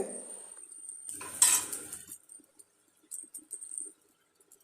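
Cooked Kerala-style ghee fish pollichathu, wrapped in leaf, is moved onto a plate with a brief burst of scraping and clinking utensils against cookware, followed by a few soft taps and clinks in a quiet room.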